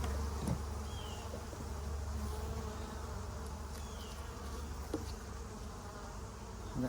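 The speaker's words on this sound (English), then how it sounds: "The bees are pissed." Continuous buzzing of a large number of angry bees during a hive varroa mite treatment, a low steady drone with occasional individual insects passing close by.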